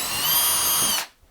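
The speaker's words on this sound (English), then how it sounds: "you put a 4mm drill into this" A 4 mm bit drills into solid-wall insulation, a loud, high, steady power-drill whine held for about a second before cutting off abruptly.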